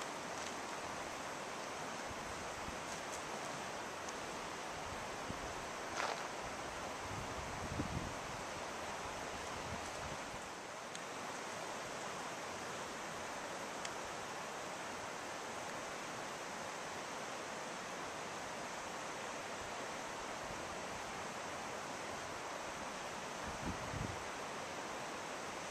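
A river flows through a Zion National Park canyon, making a faint, steady rushing wash with a few soft bumps, and no voices are heard.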